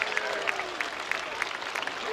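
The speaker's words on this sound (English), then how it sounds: "shall we give him a great big round of applause, Clacton?" Crowd at the Clacton seaside airshow applauding a PRXIX display aircraft, a steady wash of clapping with occasional louder bursts, fairly distant and outdoors.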